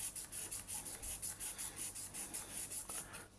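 Steady back-and-forth rasping of a 180-grit sanding stick rubbing an edge, in quick regular strokes, close and fairly quiet.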